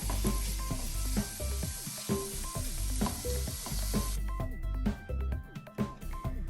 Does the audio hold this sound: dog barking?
no